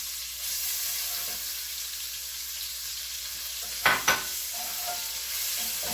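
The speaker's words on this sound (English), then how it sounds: "we add in our onions" Onions sizzle in a pan of dissolving sugar for German red cabbage, with a steady low hiss and a couple of brief sharp stirring scrapes near the end.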